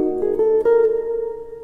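A short jazz phrase is played with every note at the same flat level: a few quick attacks settle into one sustained tone, clear and close, with no voices.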